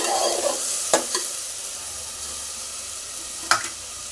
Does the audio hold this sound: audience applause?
no